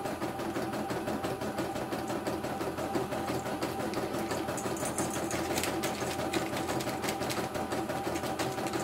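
A CNY E900 embroidery machine running continuously, its needle mechanism producing a rapid, steady mechanical clatter with a constant hum underneath, close and fairly loud with no pauses.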